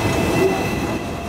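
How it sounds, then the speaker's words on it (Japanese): A Hong Kong tram rolls by on a city street, a steady close rumble with a faint metallic hum running through it and no voices. "街を行き交うたくさんのトラム。"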